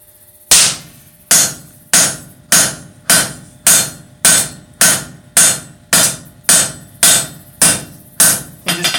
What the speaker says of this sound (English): And just keep hammering that right on down.